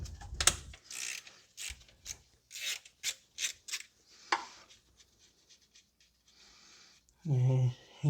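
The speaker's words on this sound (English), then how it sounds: "remove the 10 millimeter nut that's on the alternator" A ratchet clicks in quick uneven bursts while removing a 10 mm alternator nut on a 2010 Toyota Corolla 1.8, close and fairly faint, ending with a short low mechanical hum.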